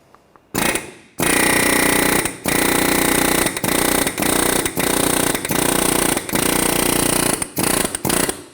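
A pneumatic air hammer rattles loudly in repeated bursts of about a second each, separated by brief pauses, very close, separating a front CV axle from the wheel hub on a 2013-2019 Ford Escape 2.0L.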